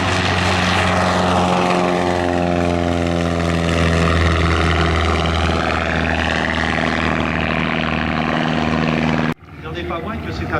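A slow biplane with bracing wires and cables flies past at an air show in Bellegarde, its loud, steady propeller-engine drone sliding down in pitch as it passes overhead before cutting off sharply near the end.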